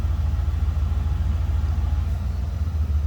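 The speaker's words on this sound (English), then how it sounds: "I can actually hear the compressor kick on and off up there." A 1986 Lincoln Mk VII engine idling with its AC running, a steady low rhythmic rumble heard up close, with no clear compressor click standing out.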